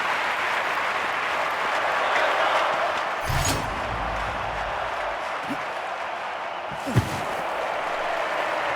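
Steady broad applause and crowd noise from a stadium audience fills a London 2012 Olympics video game event, with occasional soft thumps and a brief voice rising over the constant wash.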